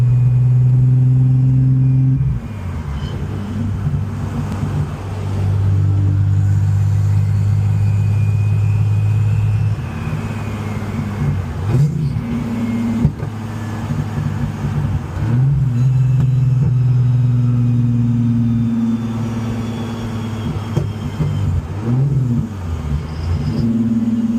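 A car that had a VVT fault rumbles loudly up close, its engine repeatedly revving up and dropping back in uneven surges with brief sharp pops between, and no voices present.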